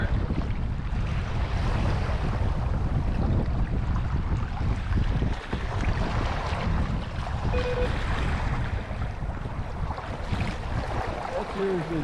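Surf and waves wash around a small sailing kayak at sea, a continuous loud rushing hiss mixed with heavy wind buffeting the microphone, with no clear voices.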